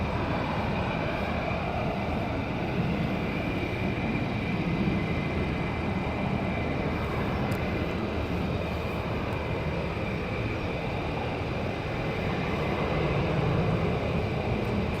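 Military aircraft at RAF Lakenheath starting to taxi out, a steady distant roar of jet engines that holds evenly for the whole stretch, with no talking.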